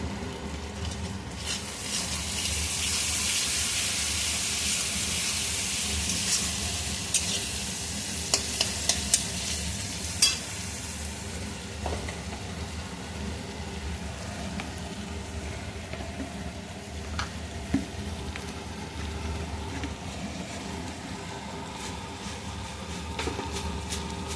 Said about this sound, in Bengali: দিয়ে দিচ্ছি একটু জিরে ও ধনের গুঁড়ো।